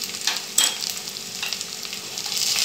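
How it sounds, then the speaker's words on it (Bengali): Grated ginger and garlic fry in oil with onions, a close, steady sizzle and crackle, with occasional stirring knocks that grow slightly louder toward the end. "আদা রসুন যে গ্রেট করে রেখেছিলাম সেটাও দিয়ে দিলাম"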